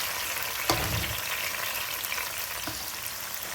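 Chopped tomato sautéing with onions in a pan, a steady loud sizzle with a couple of sharp stirring clinks, no talk over it.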